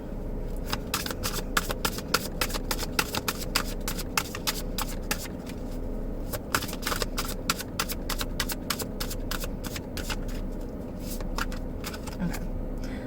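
A deck of about seventy reading cards shuffled on a tray, giving a continuous run of quick, crisp riffling taps and slaps, close and moderately loud over a steady background hum.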